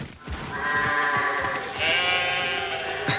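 Sheep bleat in an animated cartoon episode: a drawn-out, wavering bleat rises and holds, with a second bleat swelling later, set against a busy background of short knocks and sound effects, with no speech.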